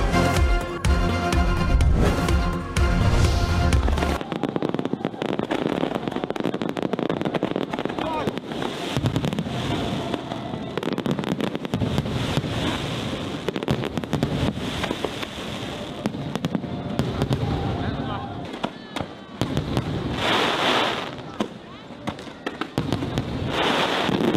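A fireworks display crackles and pops in dense, rapid bursts over a continuous roar, loud and sustained, following a short stretch of music.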